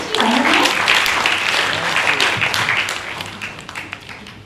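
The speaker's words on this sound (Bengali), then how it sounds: "জোরে তালি দিচ্ছি।" Loud audience applause at a theatre troupe's performance event in Rajshahi, a thick burst of many clapping hands that starts strong and gradually thins and fades, with some voices mixed in.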